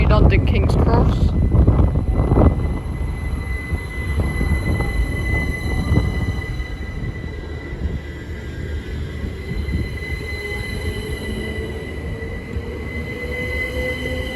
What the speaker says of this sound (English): Now departing is the 1415 Great Northern service from Ely to London King's Cross.